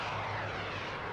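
A helicopter in the Cold War combat game Armored Brigade 2 gives a steady, loud, whooshing engine and rotor drone that fills the short stretch without pause.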